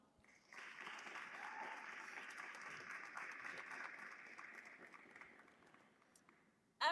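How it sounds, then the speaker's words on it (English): Graduation ceremony crowd gives a round of applause for the seniors' supporters: sustained, fairly distant clapping that starts abruptly, holds steady, then tapers off, ending with a sharp close thump. "please take a moment to recognize the people who helped get you here with a round of applause"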